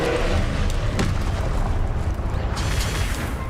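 A Confringo fire spell blasting in the Hogwarts Legacy video game: a loud, dense booming roar of explosions that fills the whole stretch without pause.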